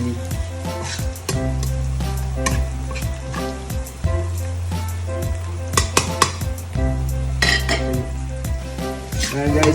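Garlic sizzles and fries in a pan over steady heat, with a utensil stirring and clinking against the cookware throughout; a constant hiss with intermittent scrapes and taps.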